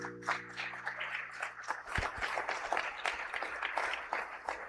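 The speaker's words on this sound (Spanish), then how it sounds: "Denle un aplauso al Dios de gloria" Congregation at a church service claps, a broad wash of hand claps with a few sharper close claps near the start, steady and moderately loud over low background hum.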